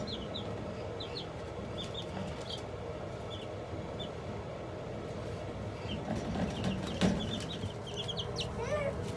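Five-day-old baby chicks peep in quick, faint, high chirps scattered throughout, over a steady background rumble.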